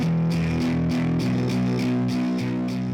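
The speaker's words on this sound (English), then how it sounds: "And I could add in, say, some distortion," Electric guitar power chords played through a distortion effect with cabinet simulation, a thick sustained crunchy tone with evenly spaced strummed chord hits at a steady rhythm, loud and up front.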